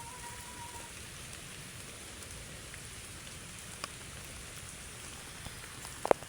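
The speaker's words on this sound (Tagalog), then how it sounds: "umuulan dito guys" Heavy rain pours steadily on a dark, windy mountainside as a typhoon approaches, a dense, even hiss of drops with a few sharper knocks near the end.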